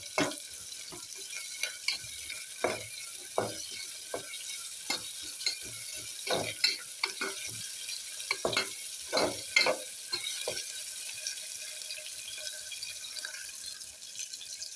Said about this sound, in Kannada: ಇವಾಗ ಸ್ವಲ್ಪ ಇದು ಫ್ರೈ ಆಗಿ ಬ್ರೌನ್ ಕಲರ್ ಬಂದಿದೆ ರೀ.